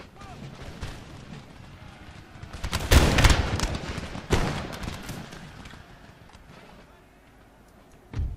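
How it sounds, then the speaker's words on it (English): A musket volley in the Empire Total War video game: a loud, dense crackle of massed gunfire about three seconds in, followed by another sharp burst and rumbling battle noise, with voices in the background. "Give them a volley, lads."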